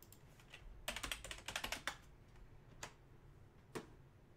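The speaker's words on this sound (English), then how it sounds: "Let me type it up." Typing on a computer keyboard at a card-break desk, quiet close key clicks in a quick burst followed by a few isolated taps.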